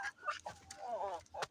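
Backyard chickens cluck in a garden coop, a few close, quiet clucks and short calls in quick succession.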